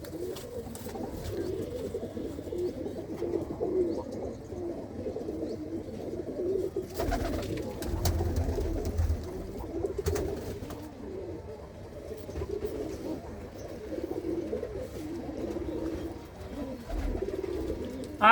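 Pigeons coo softly and repeatedly at a racing pigeon loft in Gurdaspur, their low, throaty calls continuing throughout with a few dull knocks and rumbles in the background.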